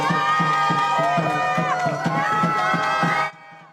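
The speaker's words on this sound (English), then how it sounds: "that was the crowd that met them outside the courtroom this afternoon" Protesters crowd outside a Minneapolis courtroom, loud and steady with chanting voices over a regular pounding drumbeat, then cutting off abruptly near the end.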